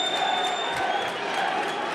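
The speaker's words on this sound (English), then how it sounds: "with the crowd definitely getting excited here at the government complex" A boxing crowd at the government complex roars continuously in a dense, loud wash of cheering and shouting for a Zambian boxer, with no clear break.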